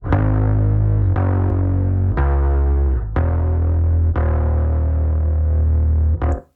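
Heavy, distorted bass guitar notes through an amp-simulator plugin, played in a slow sequence, each thick and buzzing with a gritty, sustained growl.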